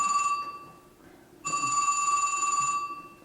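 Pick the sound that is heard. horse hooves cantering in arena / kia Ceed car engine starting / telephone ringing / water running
telephone ringing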